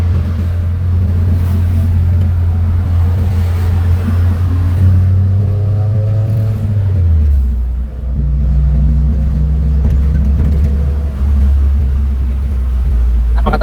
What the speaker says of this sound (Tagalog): Napaka-traffic dito mga kababayan, lalo na dito sa Tibungko.